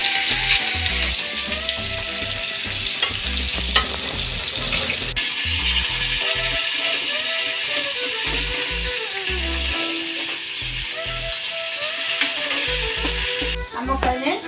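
Spicy country-style fish pieces fry in a pan at home, giving a steady crackling sizzle that runs under louder rhythmic background music throughout.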